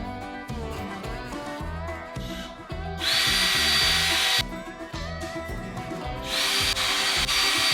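A power drill drives a screw in bursts, short rhythmic whirring pulses stepping up to two longer, louder high-pitched runs, close by with no talk.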